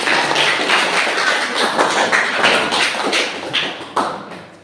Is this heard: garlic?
no